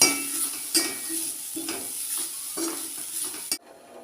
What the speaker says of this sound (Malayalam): കുറച്ച് കറിവേപ്പിലയും കൂടി ഇട്ട് നന്നായിട്ട് വറുത്തെടുക്കാൻ.